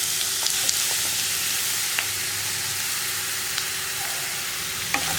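Tender jackfruit sizzling and frying in a hot pan with mustard seeds for thoran, steady sizzle with a few light stirring clicks and scrapes, close and continuous with no talking.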